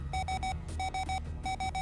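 Ostranauts proximity warning, quick groups of three bright electronic beeps repeating in a steady rhythm over a low background rumble.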